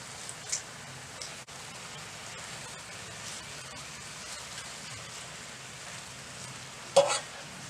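Spinach sizzles in a pan with zucchini noodles and mushrooms, a soft, steady hiss with light stirring scrapes and a few louder clatters, one near the end.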